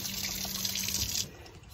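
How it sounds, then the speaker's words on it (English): Water running and trickling down a freshly unclogged RV trailer sink drain, a soft close splashing flow that eases off near the end. "So once I pulled the air out, I think that started the water flowing."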